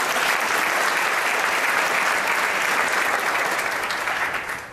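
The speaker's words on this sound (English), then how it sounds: "Our commission, that does deserve a round of applause." A large audience bursts into dense, sustained applause at a New York City Council Pride event, a loud, even roar of clapping that holds for several seconds before beginning to fade at the end.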